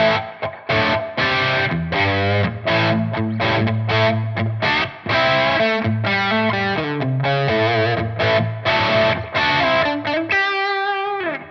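Distorted electric guitar through an amp tone with cab simulation, playing chords and riffs in a steady rhythm, loud and close, with a full amplified tone and a ringing chord at the end.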